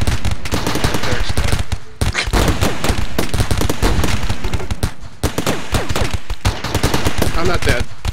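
Colony turrets in RimWorld fire continuous rapid bursts, loud clattering gunfire that runs almost unbroken with brief gaps, dense and close.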